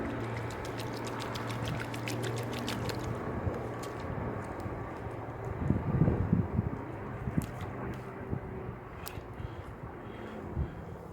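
Water pouring onto newly planted leeks in garden holes, a steady splashing wash that swells in the middle and then trails off, with an aircraft droning faintly in the distance and light wind noise.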